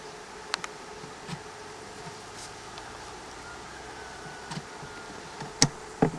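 A small, weak honeybee swarm hums faintly and steadily in the open, with a thin insect drone broken by a few soft ticks and light rustles.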